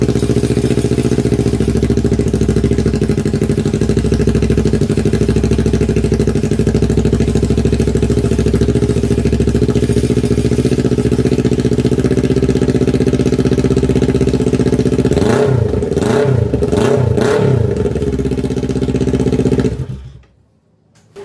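A Kawasaki Ninja 400 idles with no muffler fitted, a loud, steady, throaty rumble that runs for about twenty seconds, with a few quick revs near the end before it cuts off abruptly into silence.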